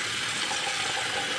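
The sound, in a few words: water for soaking meat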